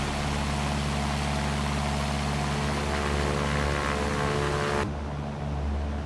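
A propeller airplane engine drones loudly and steadily while climbing out in the X-Plane 11 flight simulator with a G1000 cockpit, its tone holding even throughout before the high end drops away near the end.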